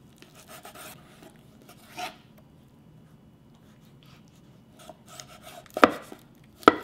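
A knife slices through thick, soaked dried shiitake mushrooms on a board, with a few quiet cuts followed by two sharp, loud chops near the end and no talking.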